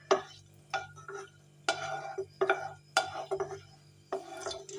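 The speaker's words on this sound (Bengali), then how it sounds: "এবার এটাকে আমি ভালোভাবে ভেজে নেব" A spatula scrapes and clinks intermittently in a pan while whole garam masala and dried red chillies are fried, the short metallic strokes close and spaced by brief pauses.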